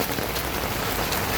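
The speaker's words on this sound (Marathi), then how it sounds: "नुसता पाऊस आहे, नुसता पाऊस." Heavy rain pours down in a dense, steady, close roar of drops striking surfaces, unbroken for the whole moment, with no voices.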